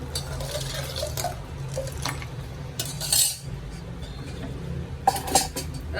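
Ice goes into carrot juice with clinks and knocks against a vessel, a few sharp bright chinks standing out over a low, steady kitchen background, no talk.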